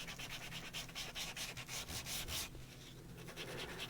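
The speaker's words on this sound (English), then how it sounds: "I'm going to sand that down just using one of the sanding discs." Close, continuous sanding of wood edges with a sanding disc, a rhythmic rasping scrub in repeated strokes that eases to a lighter rub near the end, with no talk.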